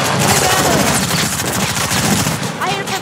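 Rapid automatic turret gunfire in a Fortnite Duos tournament match, a dense continuous rattle of shots filling the whole stretch with a loud, steady intensity, with voices talking over it.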